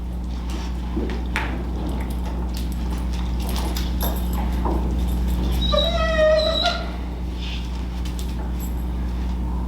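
A dog whimpers and yips in a room during an obedience session, a brief series of high, wavering whines near the middle over a steady low hum and scattered soft knocks.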